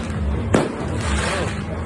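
A sidewinder firework goes off at a New Year celebration in the Philippines, one sharp crackling burst midway through a rumbling, noisy background, with a faint whistling sweep after it.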